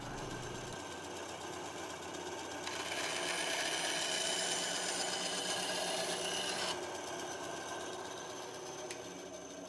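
A bandsaw cuts small dovetail key pieces, its motor humming steadily while a brighter, louder cutting whine swells for several seconds in the middle before falling back to the idle run; no talking.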